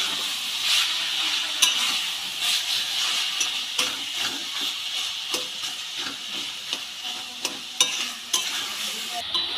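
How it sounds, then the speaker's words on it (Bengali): Spatula stirring banana flower curry with prawns in a pan, repeated scraping strokes at irregular intervals over a steady frying sizzle and hiss, close and moderately loud, no talk. "খুন্তি দিয়ে একটু ঘেটে দেবো তাহলে একটু মাখা মাখা হবে মোচাটা"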